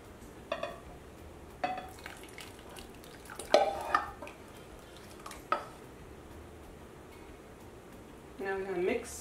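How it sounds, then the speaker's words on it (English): A milk and cheese sauce mixture being stirred into a corn mixture for a corn soufflé, with a few soft, scattered clinks and scrapes of a utensil against the bowl, faint and near, and a voice briefly heard. "I'm gonna mix all of this loveliness together."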